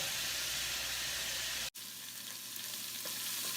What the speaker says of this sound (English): for now we're just gonna saute the Epis